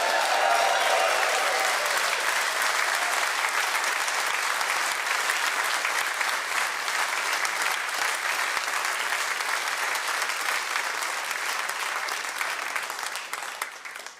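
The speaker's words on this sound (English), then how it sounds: "Please give it up, make a lot of noise and welcome the legend that is Paul Jones." A blues awards audience breaks into loud, sustained applause and cheering to welcome the evening's host. The dense clapping holds steady for the whole stretch and fades slightly at the very end.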